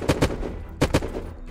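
Gunfire in a multiplayer survival game during a base raid on a vanilla server: two close pairs of sharp, loud shots with a short gap between them, and no talking over them.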